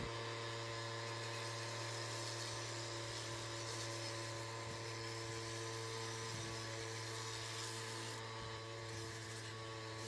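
A small power sander buzzes steadily against the edges of a wooden picture frame, a continuous close whine that stays constant with slight shifts in pitch and no speech.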